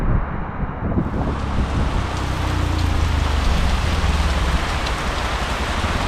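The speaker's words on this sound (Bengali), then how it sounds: "পাহাড়ের উপরে বৃষ্টি" Heavy rain pours on a hilltop at Nilgiri in Bandarban, a dense, continuous hiss of drops with gusty wind buffeting nearby, loud and unbroken.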